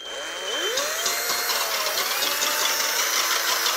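An electric hand mixer whips cream into chantilly for a healthy Christmas log, its motor starting low and rising into a steady whine that holds close and loud.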